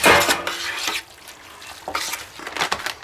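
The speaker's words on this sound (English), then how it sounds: "And we're going to mix that all up." Cooked chicken, rice and canned whole corn are mixed in a dish, giving a few close scraping and clinking stirring strokes with a pause in between, and no one talking.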